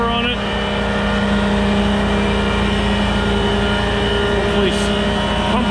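Engine fitted with a new blower on a pumping machine, running loud and steady with a deep constant drone and a faint whine on top, and no clear rise in revs.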